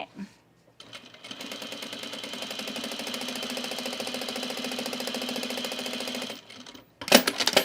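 Sewing machine stitching a men's utility jacket, a close, fast, steady mechanical chatter running for several seconds before stopping, then a short burst of louder clattering.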